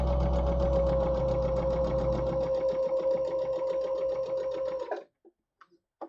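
A sewing machine runs steadily for about five seconds, stitching along a fabric edge with a fast even whir and rattle, then stops, followed by a few faint clicks.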